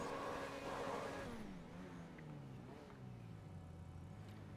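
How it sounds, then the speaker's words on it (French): Car engine rising in pitch as it revs and then settling into a steady lower hum, fairly close and continuous, with no voices over it. "J'aime pas son bruit à cette voiture."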